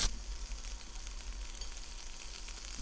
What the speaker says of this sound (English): If you don't hear the sizzle, then your pan is not hot enough